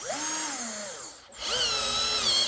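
A Brookstone 21V cordless power drill, set to torque level 7, whirs loudly and steadily near the listener, stops briefly and then spins up again with a rising whine.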